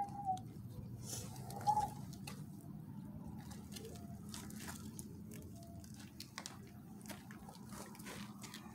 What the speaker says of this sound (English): oh, there's birds up there. Look.